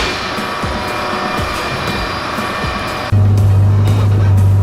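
An air-cooled Porsche engine runs as a steady, loud drone, rising to an even heavier, stronger rumble partway through with a sustained low hum.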